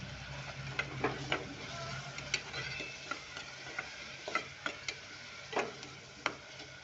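Spoon stirring brinjal pieces with turmeric and garam masala in hot oil in a pan, giving scattered scraping clicks and taps over a faint steady sizzle, close and quiet.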